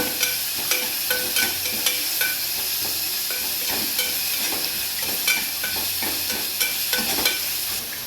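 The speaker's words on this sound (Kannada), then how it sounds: "ಅರ್ಧ ಟೇಬಲ್ ಸ್ಪೂನ್ ಶುಂಠಿ ಬೆಳ್ಳುಳ್ಳಿ ಪೇಸ್ಟ್ ಹಾಕ್ತಾಯಿದ್ದೀನಿ ಈಗ ಸ್ವಲ್ಪ ಬಾಡಿಸ್ಕೊಳ್ಳಿ" Ginger garlic paste sautéing in a pan, a steady hissing sizzle throughout with repeated light scraping and tapping of a spoon against the pan, close and without talk.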